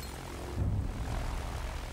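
A World War I warplane from the video game Battlefield 1 drones past overhead, a low propeller-engine rumble that swells briefly and then holds steady, with no talk.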